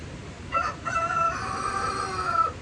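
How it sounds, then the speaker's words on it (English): A young rooster crows once, a drawn-out, slightly rough call rising over steady outdoor background noise, fairly close. "this is the young rooster right there."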